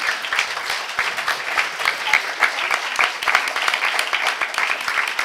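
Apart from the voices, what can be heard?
applause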